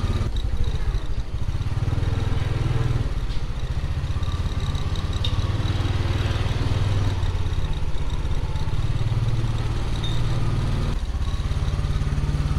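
Steady motorcycle engine drone while riding along a city street past a market area, continuous low rumble with traffic and street noise around it, no talking.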